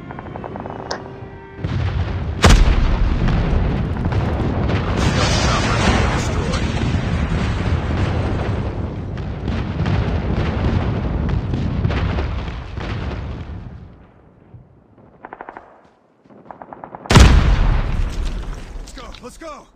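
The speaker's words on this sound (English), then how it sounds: "Friendly airstrike incoming." Airstrike explosions in Call of Duty Mobile: loud, continuous rumbling booms and blasts fill most of the span, easing off briefly before another sharp heavy burst near the end, with game voice callouts mixed in.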